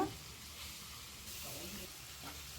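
Onions and curry leaves frying in oil in a pan give a steady, soft hiss and sizzle throughout, faint and even, with a voice speaking quietly over it.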